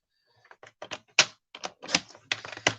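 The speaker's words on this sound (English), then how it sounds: "my trimmer needs a good clean and it needs a new blade, but you can get pretty close with the trimmer" A worn paper trimmer with a dull blade slices along the edge of a photo, giving a quick series of dry scraping and clicking strokes, close and fairly quiet, with brief pauses between them.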